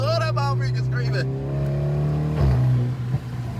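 A tuned BMW G20 engine driven through snow rings out in a loud, sustained high drone, with voices shouting over the opening moments before the engine note holds steady and then dips briefly.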